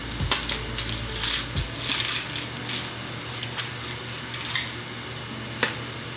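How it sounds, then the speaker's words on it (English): Papery, crackly crunching and rustling as dry charred skin is stripped from an onion, heard in close irregular bursts with a few sharper snaps and small thumps. "I am taking off the skin off the onion"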